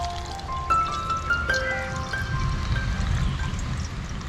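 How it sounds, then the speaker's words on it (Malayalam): Water poured into glass beer bottles for a garden craft, a close, continuous trickle with rising ringing tones as each bottle fills, no voices. "ഇനി അടുത്തത് നമുക്ക് നമ്മുടെ ഈ കുപ്പിയിലെല്ലാം വെള്ളം നിറയ്ക്കണം."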